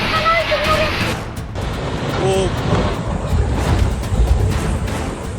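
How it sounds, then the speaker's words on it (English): Strong wind roars steadily in a loud, broad gusting rush, with bursts of buffeting noise throughout. "The wind blows with a maddening speed"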